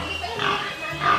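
A young pig on a farm gives short, close grunts in a quick burst, with a fainter grunt following a moment later.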